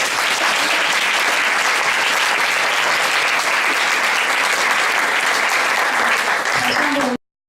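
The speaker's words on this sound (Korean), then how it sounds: "또 한 번 박수를 보내주시기 바랍니다." Audience at a 2017 PSCORE speech event applauding after a talk, loud continuous clapping filling the room, with a voice beginning just before it cuts off.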